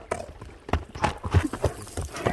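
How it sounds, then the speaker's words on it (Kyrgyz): A galloping horse on open ground, hooves striking in an irregular quick rhythm with soft thuds, fairly close and loud, over wind and rustling. "Ат жүгүргүсү келип калды"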